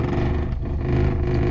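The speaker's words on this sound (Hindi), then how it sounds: "गाड़ी को मैं बैक करता हूं" A car reversing slowly gives a steady low engine rumble, close and constant, with a faint clatter and no talk.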